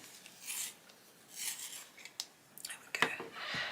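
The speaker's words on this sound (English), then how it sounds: "I need to sharpen it." A coloured pencil is sharpened in short scraping, rasping bursts, faint and close, with brief pauses between turns.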